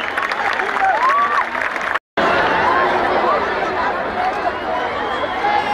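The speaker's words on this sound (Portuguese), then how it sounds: "Aí vamos dar uma salva de palmas ao Senhor." A large crowd at a Christian march in São Paulo claps and cheers amid steady chatter, with whistles cutting through the noise. A very short drop to silence breaks the continuous roar partway through.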